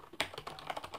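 Fingers type on a Roccat Ryos MK Pro mechanical keyboard, a quick close run of sharp clacky keystrokes in an irregular rhythm, heard alone.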